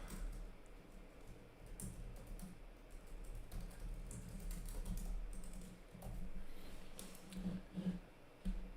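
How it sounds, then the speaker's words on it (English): Quiet, rapid typing on a computer keyboard, irregular clusters of soft key clicks close by, with a faint background hum. "Just typing some stuff up here."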